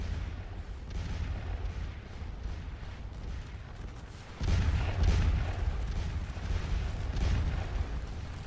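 French artillery cannon fire from the Scourge of War Waterloo game, a steady rumbling barrage of distant booms that swells louder about halfway through and rolls on without pause.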